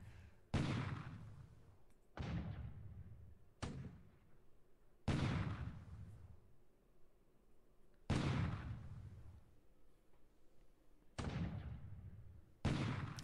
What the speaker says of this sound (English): our 40mm Bofors AA guns attempted to fire on the AK.